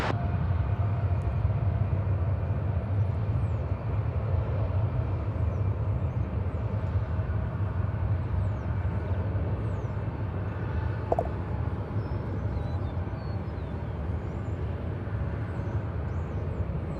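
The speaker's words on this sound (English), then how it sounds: "Arnold Laren, 18 left, clear for takeoff" Airplane at DFW Airport, a steady, distant low jet engine roar rumbling continuously without any talk.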